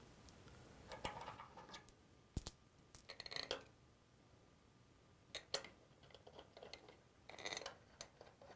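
Metal bolts being started by hand into a 4L60E transmission pump cover, a series of sharp metallic clicks and clinks in scattered bursts, close and fairly quiet with pauses between.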